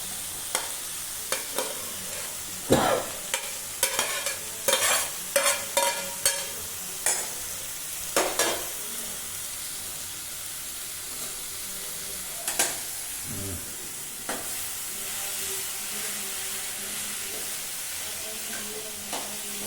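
Cauliflower being stir-fried in a pan with a steady sizzle, broken by a series of sharp scraping and clattering stirs, loudest through the first eight seconds and again near the middle, with no talking.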